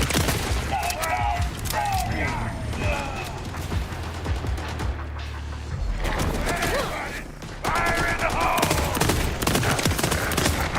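Rapid pistol gunfire in the Borderlands video game, dense repeated shots with mechanical clatter and bursts of in-game effects, loud and close throughout.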